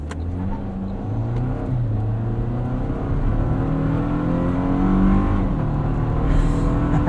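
A 2024 Toyota Tacoma SR XtraCab pickup with an 8-speed automatic accelerates hard, engine note rising steadily through several gear changes, heard close and loud from inside the cab with no voices.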